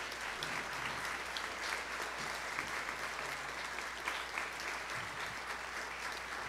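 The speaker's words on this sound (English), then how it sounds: "Can we give them a round of applause?" A symposium audience applauds steadily, a dense and fairly distant wash of clapping that stays even from start to finish with no talk.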